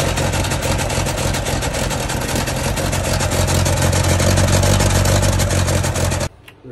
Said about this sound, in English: You can hear the engine is not sounding too healthy because it's spewing water and exhaust all over.